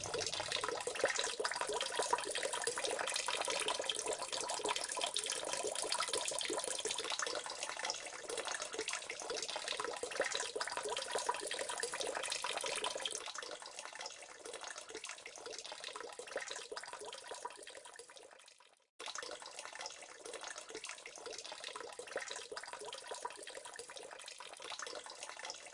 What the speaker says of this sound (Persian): نقطه ای از این ظرف سوراخ شده و شلنگی به آن متصل می شود که آب را به پایین تر و به محل زندگی گلهداران انتقال می دهد.